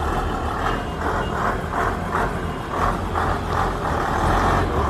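A large intercity bus on the Udon Thani to Bueng Kan route rumbles steadily closer, its heavy engine drone and road noise loud and continuous, with faint pulsing tones repeating through it.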